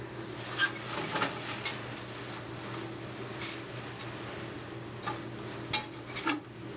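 Onion, garlic and a bit of curry powder cook softly in a pan, with a low steady sizzle broken by a few sharp clinks of a utensil against the pan.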